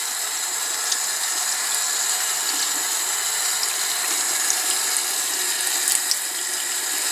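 Running tap water streams steadily into a sink while a kabuki makeup brush is rinsed and squeezed under it, a continuous close hiss with no talking.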